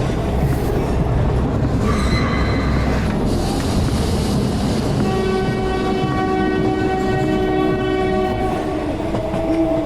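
A cartoon train runs through the night, its steady loud rumble and rattle of rolling wagons filling the scene, with a long sustained horn-like tone sounding over it in the second half.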